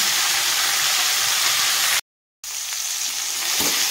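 Chopped tomatoes frying in a pan with cauliflower and potatoes, a loud, dense hissing sizzle close by, briefly cut to silence midway, then resuming with a faint scrape.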